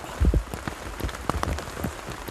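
Rain patters on leaves and ground in a pine forest during a pine mushroom harvest, with scattered close drops and soft thuds over a steady hiss.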